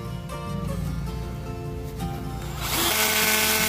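A DEKTON D21 MK13 cordless drill with a 13 mm auto-lock chuck, set to its lowest clutch setting, drives a wood screw. A steady, whining motor hum runs throughout and swells into a louder, rougher grinding rush near the end.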